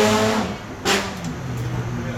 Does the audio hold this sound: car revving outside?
yes